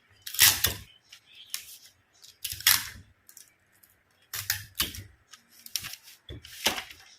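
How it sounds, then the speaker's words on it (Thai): Scotch tape being pulled and pressed onto pattern paper while drafting a garment pattern, heard as a series of short, sharp crackling rips and taps in irregular bursts, close and fairly quiet, with no talking. "เราปิดสกอตเทปก่อนค่ะ"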